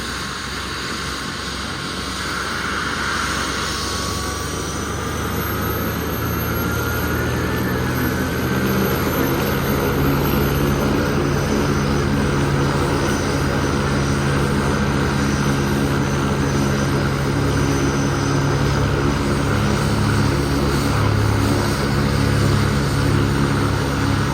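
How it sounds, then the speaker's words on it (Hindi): A helicopter engine drones steadily with a low rotor thrum, running continuously and fairly loud with a faint whine above it. "पायलट जो हैं वो हेलीकॉप्टर में बैठ चुके हैं।"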